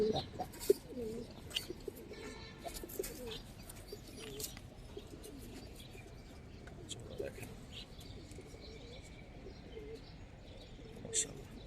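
Army and silver-colored pigeons coo softly in low, repeated murmurs at a market, faint and close, with people talking nearby and occasional chirps.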